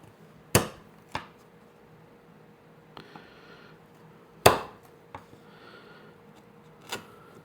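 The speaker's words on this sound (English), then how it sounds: "the chisel won't be able to dive as deep, and will just result in a nicer cut." A hand chisel pares wood while a drawer dovetail is cut by hand, giving a handful of sharp, isolated knocks and short scrapes spaced apart. The sounds are quiet and close, with near silence between them.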